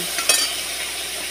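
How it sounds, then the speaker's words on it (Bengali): Ginger garlic paste frying in a pan, stirred with a utensil: a brief scraping clatter near the start, then a steady close sizzle, with no talking. "আমি পেস্ট আদা রসুনটা যে বেঁধেছিলাম এটা দিয়ে দিলাম, একটু নেড়ে দিলাম।"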